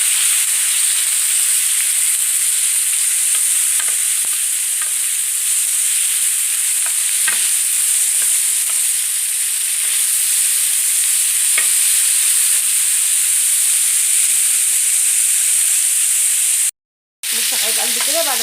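Lamb heart slices sauté in a hot pan with a steady, close sizzle and occasional stirring scrapes, running continuously for most of the stretch before a brief cut near the end.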